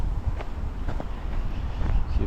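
A strong Chinook wind gusts in Calgary, battering the microphone with a low, uneven rumble that rises and falls in irregular bursts for a couple of seconds.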